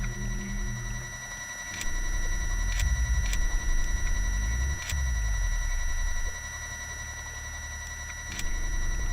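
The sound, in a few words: spiders clicking in a video game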